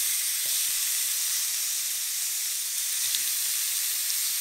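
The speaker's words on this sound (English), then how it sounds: "Chuck the steaks in." Steaks searing in a hot pan give off a steady, bright hiss that holds for several seconds close up, with no talk over it.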